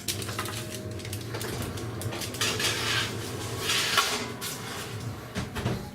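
Scone-laden baking tray slid into a preheated oven, heard as steady metallic clatter and scraping of a tray against oven racks, with a few sharper clanks near the end and no talking.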